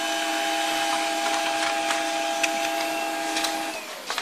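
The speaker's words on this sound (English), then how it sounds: "from your wireless device to the wireless printer, Samsung wireless printer" A Samsung SCX-3405W wireless printer prints a page, giving a steady mechanical whir with faint tonal hums and light clicks throughout, winding down near the end.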